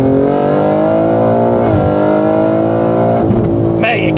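A tuned BMW M3 Touring accelerates hard with a loud, continuous engine roar that climbs steadily in pitch through the gears, briefly dipping at a shift, heard close and dominating throughout.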